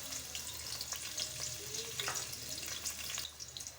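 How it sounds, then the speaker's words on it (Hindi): Onions fry in hot cooking oil, a steady close crackle and sizzle with occasional stirring clinks, no voices over it. "ऑयल हमारा गर्म हो चुका है। तो सबसे पहले मैं इसमें प्याज ऐड कर दूंगी।"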